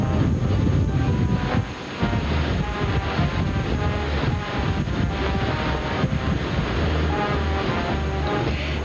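Strong wind roars steadily and loudly during storm coverage outdoors in Mobile, Alabama, a continuous blustery rush buffeting the microphone with gusty low rumble throughout.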